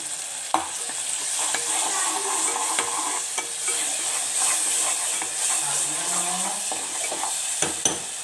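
Biryani frying in a pot as food colour is stirred in, with a constant loud sizzle and hiss, scraping spoon strokes and occasional clinks against the pan, close and without talk.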